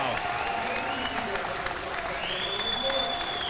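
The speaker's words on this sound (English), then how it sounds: "That crowd is loud." A loud esports arena crowd at a Halo World Championship roars and cheers continuously, with whistle-like tones rising above the din and a voice talking through it.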